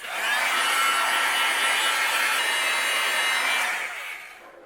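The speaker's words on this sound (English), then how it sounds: "I'm going to use my heat gun, and we're going to melt it." Heat gun blowing over embossing powder on a stencilled papercraft card, a steady loud whooshing fan roar lasting about four seconds and then switching off and winding down.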